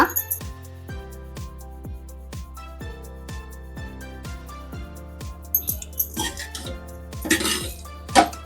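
A metal spoon scrapes and clinks against a pan while ragi flour upma is mixed with grated fresh coconut and coriander leaves, with steady rhythmic taps and a few louder clatters near the end.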